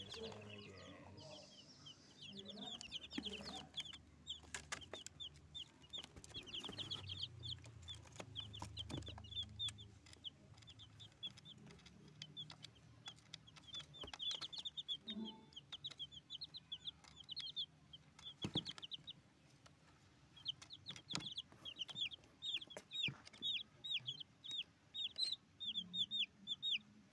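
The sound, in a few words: chickens clucking in a coop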